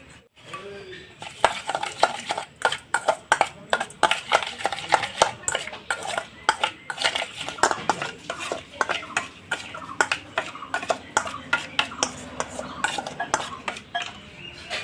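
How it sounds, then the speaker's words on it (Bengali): Yogurt with salt, sugar and turmeric whisked by hand in a bowl, a rapid, steady train of clinking, scraping strokes against the sides that continues close up throughout. "আমি এখন সুন্দর মতন ফেটিয়ে নেব"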